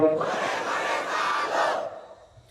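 A large crowd roars a short chanted takbir response at a Bengali Islamic sermon gathering, a dense voiced swell lasting about two seconds before it fades.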